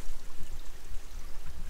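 A creek in wooded hill country flows steadily nearby, a loud continuous rushing and burbling wash with gusty swells, and no voices.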